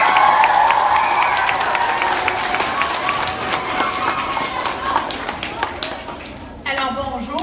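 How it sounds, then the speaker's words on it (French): Audience at the 2017 Course de l'espoir launch applauding with some cheers, loud dense clapping that gradually thins and fades, with a few scattered claps and a voice near the end. "On l'applaudit bien fort."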